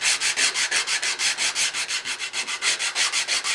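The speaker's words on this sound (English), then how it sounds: "A little 80 or 100 grit sandpaper." Curly maple sanded by hand with 80 or 100 grit sandpaper, a rhythmic series of quick raspy back-and-forth strokes, close and steady with no talking.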